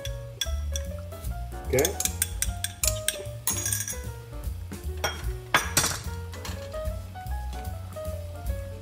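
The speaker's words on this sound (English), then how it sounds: "So you have to dilute the cornstarch" A spoon clinks and scrapes around a bowl while cornstarch is stirred and diluted for sweet and sour fish sauce, bright repeated taps and rattles under a person speaking.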